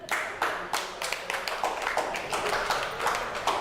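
A studio audience at a Hindi quiz show claps for a participant, with brisk, fairly sparse hand claps repeating steadily and close by throughout.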